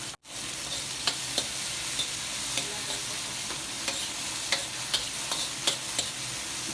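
Cauliflower gobi stirred with green and red chilli sauces in a hot pan over high flame, a steady sizzle with a spoon scraping and clicking at irregular intervals, close and without talk.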